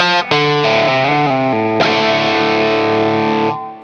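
Fender Stratocaster electric guitar in its regular Strat tone with a 10-way switch, bright and bitey, playing a few sustained chords and notes with a strong restrike partway through, ringing out alone before fading.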